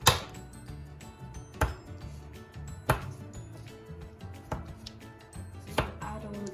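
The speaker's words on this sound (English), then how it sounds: "the rest of the chocolate, but this needs to be chopped up a bit" A knife chopping chocolate on a board, sharp distinct knocks spaced roughly a second or more apart with small scraping sounds between, close and fairly quiet with no talk.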